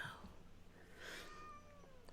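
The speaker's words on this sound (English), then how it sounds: "I think the cat's at the door." A cat meows at a door, one drawn-out, rising and falling cry that sounds faint and somewhat distant over a quiet room hum, with no talk.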